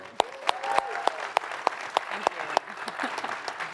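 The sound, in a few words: applause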